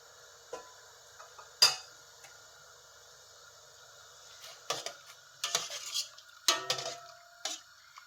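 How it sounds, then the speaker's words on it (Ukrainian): Clinks and clatter of a metal lid settling onto a pot of marinating mushrooms, several sharp taps and scrapes in a quiet kitchen with a faint hum. "Накриваю крижечкою"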